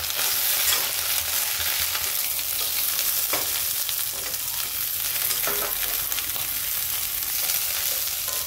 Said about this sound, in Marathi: आता तेलामध्ये आपण आधी वांग्याला परतून घेणार आहे